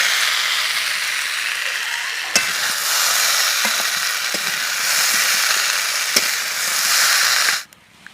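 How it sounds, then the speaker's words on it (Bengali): Potatoes fry in hot oil in a kadai, a loud steady sizzle with a few sharp clinks of a stirring spoon, alone without any voices, fading abruptly near the end. "এবার আমি টাইম দিয়ে আলুটাকেও ভেজে নেব"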